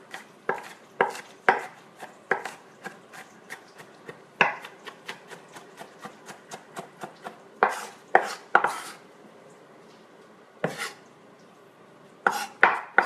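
A knife dices onions on a cutting board for a simple beef chili, making crisp, close chopping knocks in steady runs of rapid strokes, with short pauses and a few heavier clusters.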